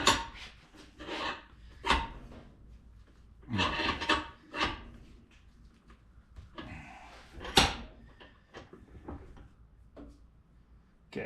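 An electrical connector is squeezed in a bench vise to crimp it, giving irregular close rasping, creaking and metallic scraping bursts, with quiet pauses between the movements.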